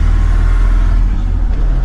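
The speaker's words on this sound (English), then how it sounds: "makes a lot of noises now because you have everything inside completely disassembled and not tightened, and it makes noises everywhere" Restored Land Rover Defender with a disassembled, untightened interior driving along, a loud steady low rumble of road and engine noise filling the cab from inside.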